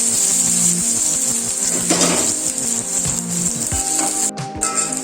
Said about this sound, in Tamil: கடுகு பொரிஞ்சதும் கட் பண்ணி வச்ச வெங்காயத்தை போட்டுக்கோங்க